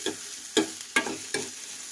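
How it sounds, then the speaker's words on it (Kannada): Onions sizzling in a pan for a restaurant-style palak paneer, with four sharp stirring scrapes about every half second over a steady close frying hiss. "ಅಲ್ಲಿವರೆಗೆ ನಾವು ಇವನ್ನ ಫ್ರೈ ಮಾಡ್ಕೋಬೇಕು"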